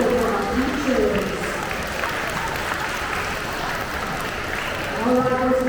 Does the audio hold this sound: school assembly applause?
yes